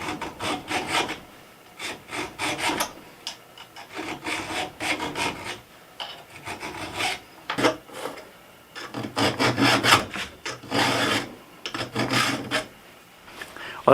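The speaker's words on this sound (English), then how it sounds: "I'll be able to file on this, get these nice and sharp" Saw chain teeth clamped in a bench vise are sharpened with a hand file in repeated rasping strokes, close and clear, arriving in uneven bursts with short pauses between them.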